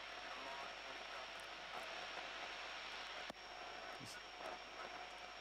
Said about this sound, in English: Don't get distracted by the helicopter.